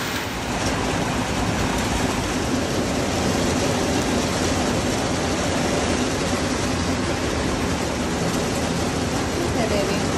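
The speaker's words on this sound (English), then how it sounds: "It's hailing." Hail pelting steadily around a trailer at horse race grounds, a dense continuous hiss and patter close by that lasts the whole stretch without a break.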